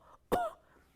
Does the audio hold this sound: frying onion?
no